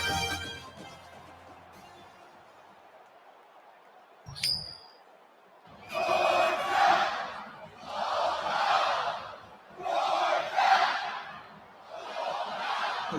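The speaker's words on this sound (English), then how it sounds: "you can feel the thunder in the crowd as they await the start of this game" A stadium crowd at a Kentucky vs Georgia college football game roars before kickoff in several rising and falling swells, heard at a distance, with a brief clink before them.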